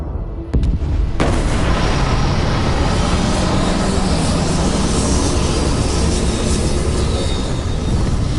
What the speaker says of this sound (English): Landing now.